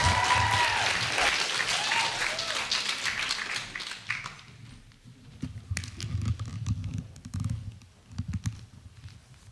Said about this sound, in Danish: Bliv ved med at klappe for det næste slammer, som er Emilie, mine damer og herrer.